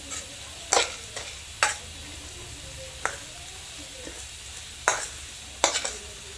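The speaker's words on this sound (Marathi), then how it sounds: "त्यात थोडं लाल तिखट टाकायचं बेडगी मिरचीचं आणि खालीवर करून" Peanuts mixed with Byadgi red chili powder are stirred and turned over. A few sharp, separate scraping strokes stand out above a faint, steady background, with no talking.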